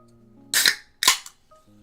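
Two loud sharp bursts of noise, each about a quarter second long and a half second apart, stand out against a quiet room where low steady tones hum.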